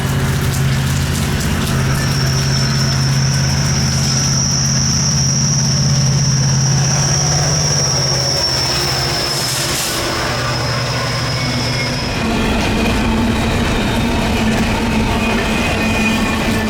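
A BNSF-led intermodal freight train on Norfolk Southern mainline trackage passes in pouring rain, a steady loud rumble of rolling cars with a sustained high whine, continuous throughout and close by.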